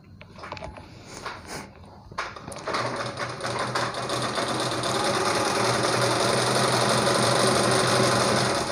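A pico sewing machine starts with a few clicks and handling sounds, then runs up into a fast, steady mechanical whirring stitch that grows louder and continues to the end, no talk.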